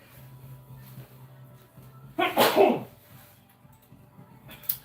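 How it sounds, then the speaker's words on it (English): A single sharp sneeze bursts out midway through an otherwise quiet stretch with a faint background hum. "So I gotta sneeze."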